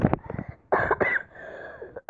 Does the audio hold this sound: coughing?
yes